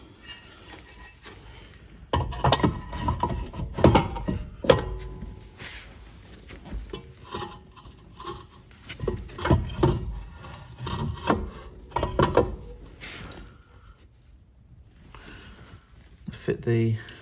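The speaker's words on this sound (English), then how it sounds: "Refit the disc." Volvo P2 brake disc being refitted onto the hub by hand, with close metallic clunks, scrapes and rubbing knocks in irregular bursts, then quieter handling toward the end.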